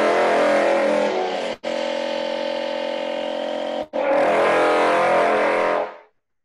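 French horn sounded with a contrabassoon reed and hand stopping, the hand starting open, giving a buzzy, harmonic-rich sustained multiphonic played as three long, loud tones broken by two brief gaps before it cuts off.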